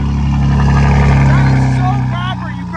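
A BMW M3's exhaust gives a deep, loud, steady drone close by that eases off slightly near the end, with a voice talking over it.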